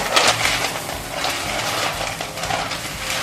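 Roasted peanuts are rubbed between the hands to strip off their skins, giving a continuous dry, crackly rustle with small gritty clicks, close and steady with no talking.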